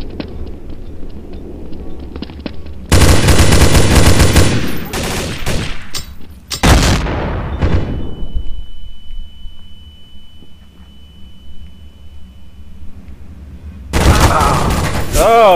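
Rapid P90 submachine gun fire in Counter-Strike Source, long loud sustained bursts with brief gaps between them, followed by a quieter stretch with other game noises before another burst, heard close up.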